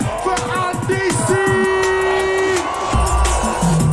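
Crowd at a sold-out drum and bass show at Wembley Arena cheers and whoops loudly over music with a sustained tone, a dense continuous roar of voices.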